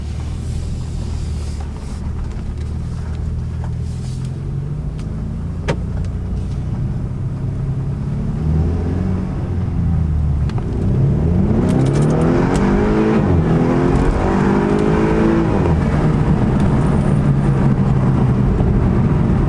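A BMW 428i M Sport with a muffler delete idles with a low rumble, then accelerates hard, its loud raspy exhaust rising in pitch through several pulls, heard from inside the car with no talking.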